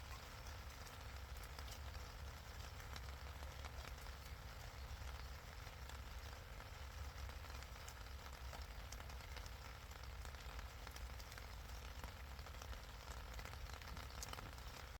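Rain falls outdoors during a winter fishing trip, a faint, even patter and hiss that continues steadily without any voices.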